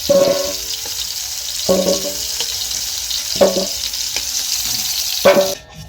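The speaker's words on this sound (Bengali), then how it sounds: "আলুটা আমি হালকা করে ভেজে নেব।" Potatoes sizzle steadily in hot oil, with a few short bursts of stirring or clattering at regular intervals.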